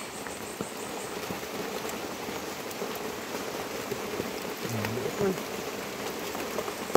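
Rain patters steadily around someone digging taro root in the mountains, a soft even hiss of falling drops with faint insect chirps, moderately close and quiet, with a brief low voice murmuring partway through.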